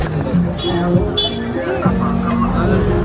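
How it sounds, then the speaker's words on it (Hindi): A crowd of children gathers around a stopped vehicle in Kamaniola, DRC, a close, lively babble of overlapping young voices chattering and calling out all at once. "ये देख लो भाई हाल, बच्चे भीड़ लगा के खड़े हो गए।"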